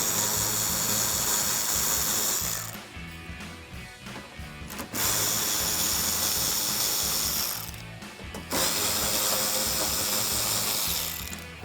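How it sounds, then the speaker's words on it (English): Screws being backed out of the inner wheel well of a RAM 1500 with an 8mm socket: loud, continuous ratcheting whirr close by, broken by two short pauses of quieter clicking before the buzz resumes. "I'm going to use my 8mm socket to remove some of the screws here on the inner wheel well"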